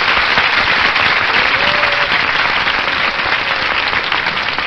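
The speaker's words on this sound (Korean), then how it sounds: "박수로 만나 주십시오" Loud, steady applause fills the hall from a live audience at a public radio broadcast, a dense continuous wash of clapping sustained from start to finish with no voices on top.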